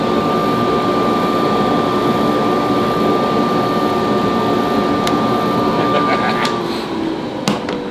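A dust collection system runs steadily at a woodworking planer, a loud continuous roar of air with a faint steady whine, ending in a few sharp knocks.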